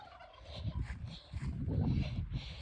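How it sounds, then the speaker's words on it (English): Turkeys gobble in a farmyard among chickens, a burst of rapid, rattling calls that rises and falls close by, repeating through the moment without any talking. "turkeys and other chickens are following me."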